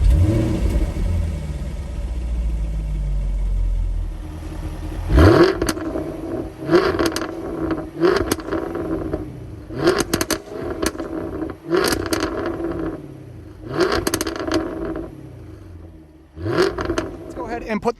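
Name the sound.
Jaguar F-Type R exhaust, startup and revving in dynamic mode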